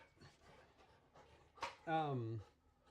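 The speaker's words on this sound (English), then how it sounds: "You might have to listen to dogs fighting in the background because she's not going to stop." Dogs panting and whimpering as they play rough indoors, with a louder sharp whine near the end; a person speaks over the scuffle.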